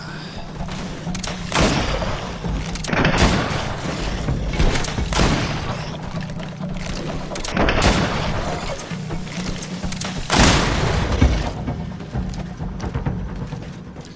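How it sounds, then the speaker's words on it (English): A grenade goes off in the video game Greedfall amid repeated loud booming blasts and bursts of gunfire across the whole stretch, with voices faintly underneath. "Watch out! Grenade!"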